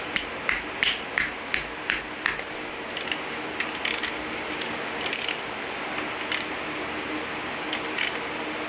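A ratchet wrench with an 11mm socket loosens connecting rod cap bolts on a Dodge 5.7L V8 engine, giving a close series of sharp ratcheting clicks, rapid and regular at first, then sparser, with no talking.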